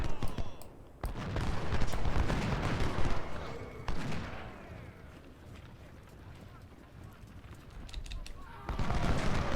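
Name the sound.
gunfire and artillery in the video game Ultimate General Civil War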